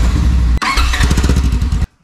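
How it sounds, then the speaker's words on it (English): A Polaris RZR Trail S1000 engine runs loud and close with a rough, throbbing idle. It breaks briefly, resumes, then cuts off abruptly into silence. "Start up the engine and let it warm up for about 2 minutes."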